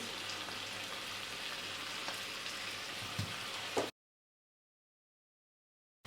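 Beef and cheese skewers fry in a pan with a steady, close sizzle and crackle for about four seconds, then cut to silence before a brief return.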